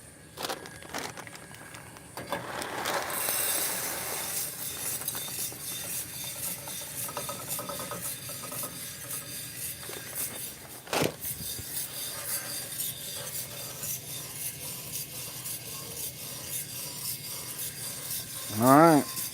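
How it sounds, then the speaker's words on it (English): Coffee beans tumble and cascade inside a roaster heated to about 400 degrees, a continuous close rattling, scraping churn of the machine with an occasional louder clank. "Beans are cascading over"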